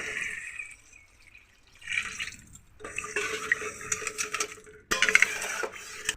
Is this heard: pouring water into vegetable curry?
yes